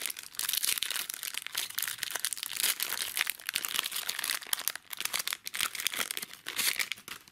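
A Pokémon booster pack's foil wrapper is crinkled and torn open, continuous dense crackling and crunching plastic sounds, close and fairly loud for several seconds, with no talking.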